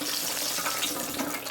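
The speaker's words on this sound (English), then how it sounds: "And we're going to dunk them in the oil." Cheese balls dropped into hot frying oil, giving a steady loud hiss and crackling sizzle that holds on without a break and with no talking.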